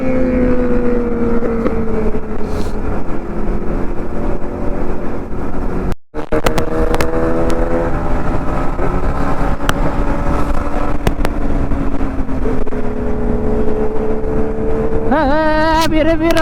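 Kawasaki Z900 and Z800 motorcycles ride together, and a loud, close engine drone rises and falls with gear changes, with wind rushing over the microphone and a brief dropout partway through.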